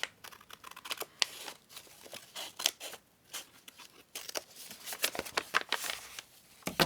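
Scissors snipping paper scraps for a junk journal, a close series of crisp, irregular cuts and rustles with short pauses between bursts, no talking.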